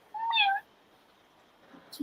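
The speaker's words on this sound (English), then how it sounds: "the cat's like yowling at me" A house cat yowls once, a drawn-out wavering cry up close, then goes quiet apart from a few faint soft sounds near the end.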